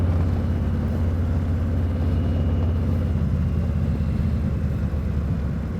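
A Harley motorcycle cruising down the highway after a tire change, its engine a steady, loud low rumble with wind roar, continuous and unbroken throughout.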